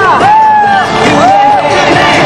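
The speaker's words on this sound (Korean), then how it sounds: "다시 한번 뜨거운 박수와 함성 주시기 바랍니다" Large outdoor presidential campaign rally crowd in Gwanghwamun Square, Seoul, roaring and cheering continuously with whoops and a thick babble of voices, loud and close, with rising call-like shouts over the din.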